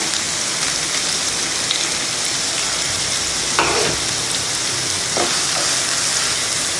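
Chopped large onions frying in hot oil in a pan for egg podimas, a dense, loud and continuous sizzle with a few brief scrapes of stirring.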